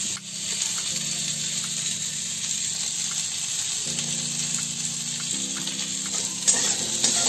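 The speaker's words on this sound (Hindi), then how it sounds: "ये देखिए गोभी डालते, हल्दी डालते ही गोभी धीरे धीरे फ्राई होने लगा है" Cauliflower with turmeric sizzles and fries steadily in a pan, a constant close hiss with faint stirring scrapes and no talking.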